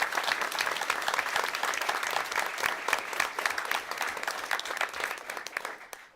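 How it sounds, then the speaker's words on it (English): An audience at a school board meeting gives sustained applause for bowling team coaches, dense steady clapping that continues for several seconds before tapering off at the end. "they deserve a huge round of applause for what they do"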